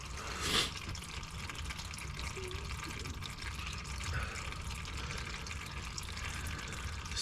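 Transmission fluid pours steadily from a 340 Duster during a manual valve body swap, a continuous close trickling and splashing with a brief knock near the start.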